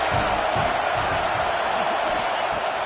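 Dense, steady roar of a large stadium crowd at a Florida State football game, broadband and constant throughout with no distinct voices standing out.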